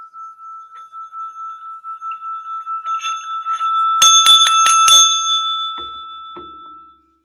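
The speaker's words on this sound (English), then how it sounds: "Hear the bell." A bell rings at the start of a session, a sustained tone with a pulsing repeated ringing that grows louder, then a burst of bright metallic strikes before it fades to silence.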